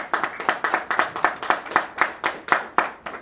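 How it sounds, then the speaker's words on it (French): Audience clapping at a reception in Gabon, heard as a distinct rhythmic series of about a dozen sharp, loud claps in a steady beat, fairly close, with no talking over it. "On applaudit s'il vous plaît."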